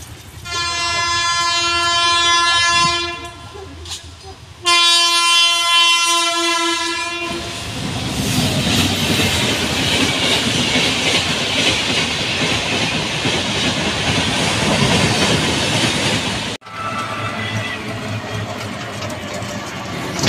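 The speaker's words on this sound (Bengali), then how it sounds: "এদিকে রেল গেটে এসে দাঁড়িয়ে আছি, ট্রেন আসবে।" A train horn sounds loudly at a railway level crossing, with long harmonic blasts, then the heavy rumble and clatter of the passing train dominating for over ten seconds before it fades.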